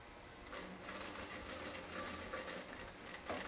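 A sewing machine stitches a folded skirt waistband, a fast steady mechanical patter running close and fairly quiet, alone without talk.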